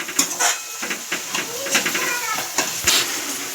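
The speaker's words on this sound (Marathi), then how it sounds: "छान असा आपला कांदा ब्राऊन होईपर्यंत फ्राय करायचा." Chopped onion frying in a pan for pav bhaji, a steady close sizzle and hiss broken by scattered stirring clatter throughout.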